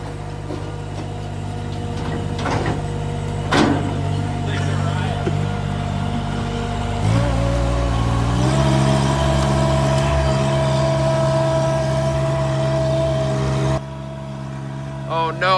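Gravely AXIS 200DT tracked mini skid steer with its engine running, a continuous close diesel hum with a shift in tone partway through and people talking over it.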